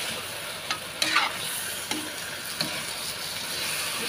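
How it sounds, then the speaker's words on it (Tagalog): Squid frying in a pan for squid adobo, with a constant bright sizzle and a few distinct stirring scrapes against the pan, close and alone. "So, ilalagay na natin pusit, guys. Ganito ako magluto, guys. Yun. Haluin natin, guys."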